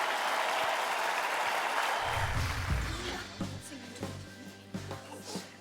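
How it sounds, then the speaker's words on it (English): Applause for the school choir Ysgol Ystrad at a young choir competition semi-final, dense clapping that thins out after about two seconds as low music or voices come in beneath it. "a huge round of applause for Ysgol Ystrad"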